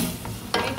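Macaroni with black pepper and salt frying in a pan, a low steady sizzle with a brief scrape of stirring near the end.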